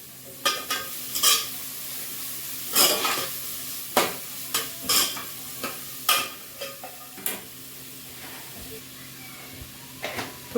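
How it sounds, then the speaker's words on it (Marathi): Vegetables frying in a pan, a low steady sizzle punctuated by repeated sharp stirring scrapes and clinks of a utensil against the pan, close and fairly loud. "आणि इकडे आपलं भाज्या सुद्धा छान असे फ्राय होते."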